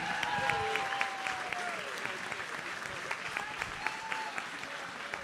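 Audience at a charity gala auction applauding, a steady wash of clapping from a room full of people, moderately distant and sustained throughout, with a few faint voices mixed in.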